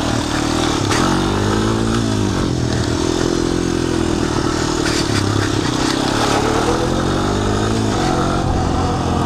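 A Honda 250EX ATV, left outside for ten years, runs with a loud, continuous engine drone whose pitch rises and falls as it revs, with some rattling clatter throughout and no speech.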